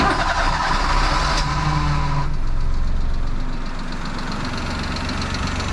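A Daihatsu Hijet mini truck engine with a new carburetor and distributor trouble idles close by with a steady rough, knocking chug, its pitch shifting slightly partway through, with no talk.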